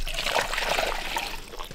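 Water poured from a bucket into a car's radiator, a short continuous trickling splash, close and fairly loud.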